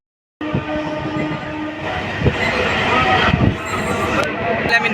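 A Kolkata local train rolls along with steady loud rumble and rattle from the carriage, a horn-like tone sounding over it and voices mixed into the ride.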